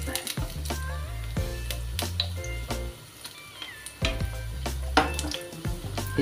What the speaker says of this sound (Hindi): देखिए इस तरीके से हमें इन्हें फ्राई करना है